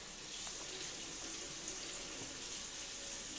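Tap water runs steadily over fresh vine-ripened tomatoes in a sink, a soft continuous hiss and splash with no talking.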